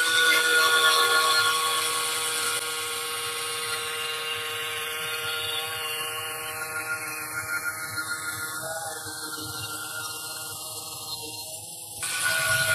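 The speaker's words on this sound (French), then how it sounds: "les poils de la brosse rentrent facilement dans les joints et y délogent toute la saleté" A scrubbing brush works dirt out of the grout joints of a countertop, with a steady whirring, buzzing scrub that holds for the whole stretch and dips slightly in pitch near the end.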